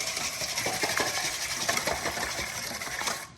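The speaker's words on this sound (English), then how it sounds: "Now we'll just take a whisk," Six eggs are whisked in a big mixing bowl, giving a quick run of close, rhythmic clinks and taps of the whisk against the bowl for a few seconds.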